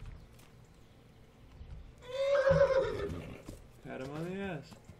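A horse in the video game Kingdom Come: Deliverance whinnies loudly and nearby, then gives a second shorter neigh, with faint ambient sound in between.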